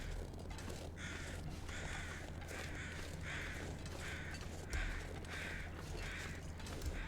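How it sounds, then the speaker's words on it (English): Crows cawing in the survival video game The Long Dark, a faint series of about eight harsh caws spaced roughly evenly over a steady low background hum. "I hear the crows."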